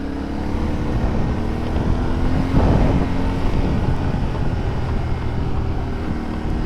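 A Yamaha motorcycle engine idles with a steady low rumble, rising briefly as the revs lift, then settling back into an even drone.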